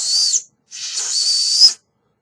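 A small survival whistle from a VIWO 8-in-1 folding tactical pocket knife kit gives two shrill, airy blasts, a short one then a longer one, close and loud with silence between.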